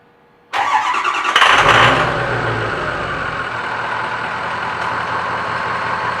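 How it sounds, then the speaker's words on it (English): A Ford F350 truck engine with a new starter cranks briefly and catches, roaring loudly before settling into a steady, close idle. "Let's go see if the truck starts."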